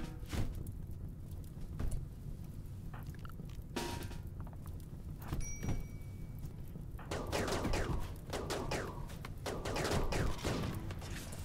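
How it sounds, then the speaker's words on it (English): Gunfire from colonists shooting in Rimworld Biotech, heard as a handful of separate sharp shots early on. A quick volley of cracks then builds near the end, set against a low background. "Great shooting on an innocent man."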